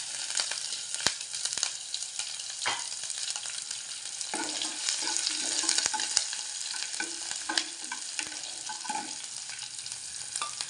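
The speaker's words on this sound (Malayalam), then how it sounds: "നമുക്ക് തീ കുറച്ച് വെച്ചിട്ട് നമ്മുടെ പച്ചമുളക് അതിലേക്ക് ചേർത്ത് കൊടുക്കാം" Green chilies and curry leaves frying in oil over a low flame, a steady broad sizzle running throughout with occasional scraping stirs and small pops, no voices.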